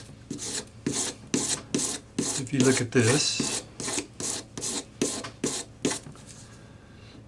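About a dozen even, rhythmic rasping strokes of a sanding stick against metal, close and loud, with a brief spoken remark partway through.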